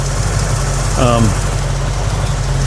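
A 1989 Chevrolet S10 pickup's V-8 engine idles while warming up, a steady low rumble throughout with a brief rising whine near the middle.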